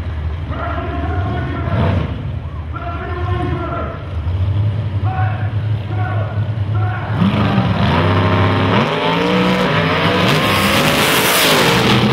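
Race cars in a grudge race roar past with loud, rising and falling engine drones, then the engine noise swells into a louder, denser passage. Voices can be heard over the engines.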